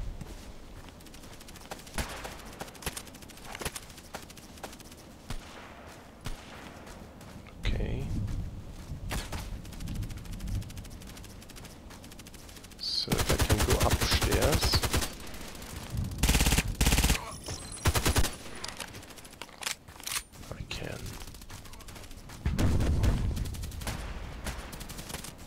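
Gunfire from a sniper-focused shooter video game, with single shots and then bursts of rapid automatic fire between quieter stretches, heard alongside occasional speech.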